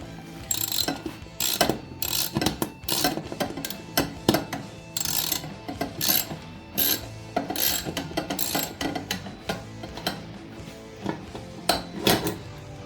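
A ratchet tightening a bolt during assembly of a Bauer benchtop drill press clicks in rapid close bursts, with short pauses and some metallic clatter between strokes.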